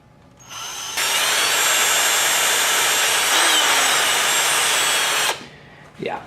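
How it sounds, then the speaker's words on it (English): A handheld power drill boring into a small metal part from a Suzuki GS550 cafe racer build, one loud, steady high-pitched whine lasting several seconds up close, then cutting off sharply, with a brief vocal sound after. "I may just want to, sorry to say, hold it in my hand and drill it"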